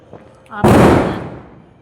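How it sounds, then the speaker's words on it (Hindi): Firecrackers go off at a Dev Uthani Ekadashi and Tulsi Vivah wedding celebration, a faint pop followed by a loud sharp burst with a crackling tail, heard close by. "पटाखे चल रहे हैं"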